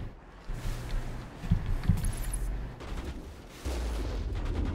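Gunfire in the Mass Effect video game: a series of booming shots and bursts, heavy and rumbling, firing repeatedly at close range.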